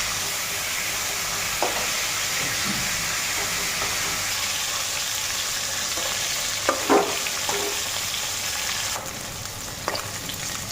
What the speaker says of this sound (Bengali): তো এইদিকে মাছগুলিও ভাজা হয়ে গেছে গা, তো উঠাই নিই এখন।